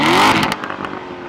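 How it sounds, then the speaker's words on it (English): A loud, close car exhaust in race mode, its loudest, lowest-restriction setting, roars as the engine revs, then settles into a rumbling, crackling idle. "Notice the exhaust. This is the loudest, lowest restriction exhaust mode there is."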